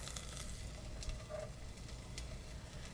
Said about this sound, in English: hear the sizzle building?